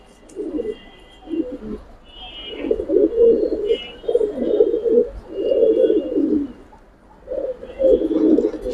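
Giribaz pigeons coo in steady low rolling phrases inside a loft in Old Dhaka, several birds overlapping close by with brief pauses between bursts and faint higher chirps above.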